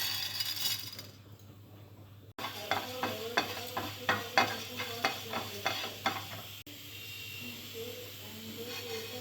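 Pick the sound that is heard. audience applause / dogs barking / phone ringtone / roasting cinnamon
roasting cinnamon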